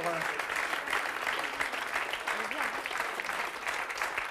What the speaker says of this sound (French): on peut vraiment applaudir Sarah très très fort